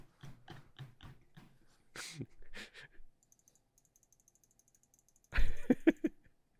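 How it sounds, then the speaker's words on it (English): A computer mouse clicks in a quick run of sharp, rhythmic taps, then a pause, then a louder cluster of clicks near the end, close to the mic with no talk. "the only sound out of the fucking thing is Josh's mouse clicking"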